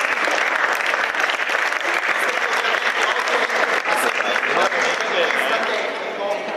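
Sustained, dense applause from an audience at a sports-games award ceremony fills the whole stretch, loud and steady with many hands clapping at once, easing off slightly toward the end.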